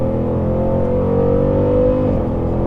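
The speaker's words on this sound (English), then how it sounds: "you can just hear the V8 in the front, the exhaust out the back" Dodge Durango SRT 392, a 2024 SUV with a V8, pulls hard after a downshift, its engine and exhaust producing a steady, loud rising drone with a gear change near the end; no talking.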